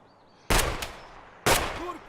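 Two sharp, loud gunshots in Escape From Tarkov, spaced about a second apart, each with a brief echoing tail over quiet surroundings.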